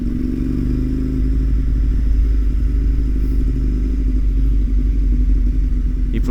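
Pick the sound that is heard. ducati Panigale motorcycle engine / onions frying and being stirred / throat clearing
ducati Panigale motorcycle engine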